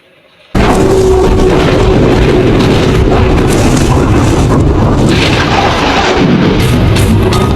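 A loud, sustained roar of stormy wind and thunderous rumble bursts in after a brief quiet start and holds steady at full strength, dense and broadband with no break, no voices over it.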